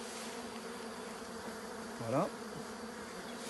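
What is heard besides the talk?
honeybees buzzing at an open beehive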